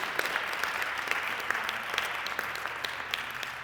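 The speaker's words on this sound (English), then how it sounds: "How about a round of applause for James?" Banquet audience at a cancer survivor celebration applauding a speaker, a soft, dense patter of many hands with scattered sharper individual claps, heard from some distance and lasting throughout.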